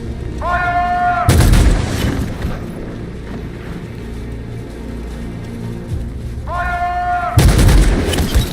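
Gunfire from soldiers opening fire in Detroit: Become Human, two loud broadband bursts of shots a few seconds apart, each preceded by rising whistling tones, over a low rumbling background.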